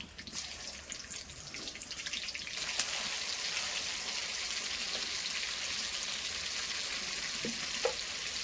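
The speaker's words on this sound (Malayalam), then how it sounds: "ഇത് നല്ല ഡീപ്പ് ഫ്രൈ ആണ് കേട്ടോ" Steady, dense sizzling of chicken pieces deep frying in hot oil, a constant crackling hiss throughout with a few soft clinks near the end.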